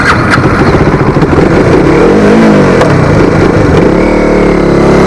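Close and loud, a KTM Duke 250 motorcycle engine runs and revs in quick throttle blips, its tone climbing and dropping with no talk over it.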